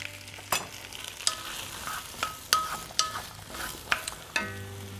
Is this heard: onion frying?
yes